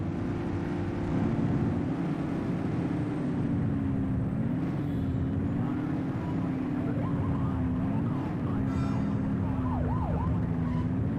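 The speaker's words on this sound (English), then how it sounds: "You're only meant to use the siren in emergencies." A police car siren from the video game The Precinct wails continuously and loudly over a steady engine and road roar, its pitch rising and falling in slow cycles.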